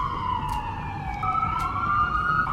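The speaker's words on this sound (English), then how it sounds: "there's some really loud sirens out the window" Wailing emergency sirens rise and fall in the distance outside in New York City, several tones overlapping, with faint traffic rumble underneath.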